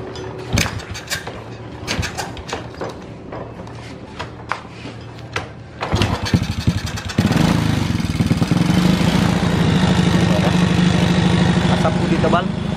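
A Honda Supra motorcycle with a white-smoke problem is heard first through intermittent clanks and handling noises with talk, then its engine settles into a loud, steady idle from about seven seconds on.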